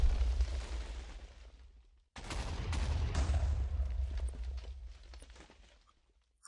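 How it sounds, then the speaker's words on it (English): Fragment missile from the Voltz Minecraft mod hits the ground and sets off a cluster of smaller explosions: two long, loud rumbling bursts with crackling scatter, separated by a brief gap, then fading to quiet. "it hits ground and fires off lots of smaller explosions around it"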